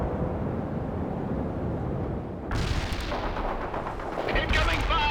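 Artillery and gunfire in the World in Conflict video game, a steady low rumble of battle that swells into sharper, brighter blasts and bursts of fire partway through and stays busy to the end.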